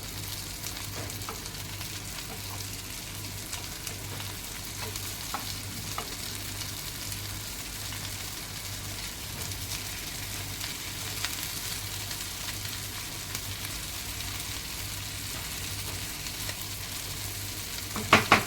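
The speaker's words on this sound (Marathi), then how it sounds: "दुसऱ्या साईडने फ्राय करून घेते आणि मग काढून तुम्हाला दाखवते" Rajma tikki frying in oil in a pan, a steady, even sizzle running throughout with a faint low hum beneath and a few louder clicks at the very end, no voices.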